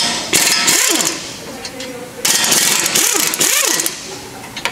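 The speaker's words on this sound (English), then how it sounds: "Using a 19mm on this back side, I'm going to remove the upper and the lower caliper bracket bolts." Caliper bracket bolts being removed from a 2012 Honda CRV front brake with a 19mm socket, loud bursts of grinding, rattling mechanical noise separated by short pauses, close by.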